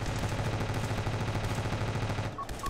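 A laser weapon in the video game Ravenfield fires rapidly, a steady buzzing rattle of dense repeated pulses. It cuts off near the end, leaving a couple of short electronic beeps.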